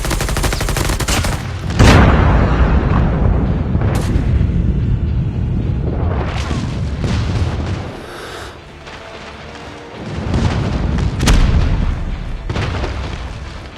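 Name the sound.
airstrike explosions in video game Call of Duty Mobile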